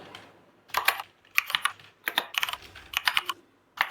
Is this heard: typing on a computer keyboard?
yes